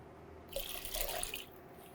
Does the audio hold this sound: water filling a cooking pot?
yes